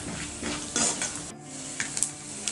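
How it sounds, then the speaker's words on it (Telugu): Peanuts and chana dal fry in a pan with a soft sizzle under clinks and scrapes of a utensil against the metal, several light taps coming close together near the end. "ఇవి మంచిగా ఫ్రై చేసుకుందాము"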